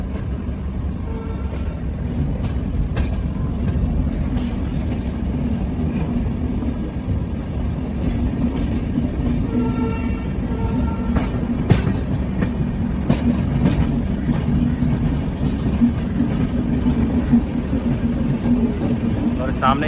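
Puri Howrah Shatabdi Express running along the line, a constant loud rumble of wheels on track with rhythmic clicks and occasional knocks, heard from inside the moving train.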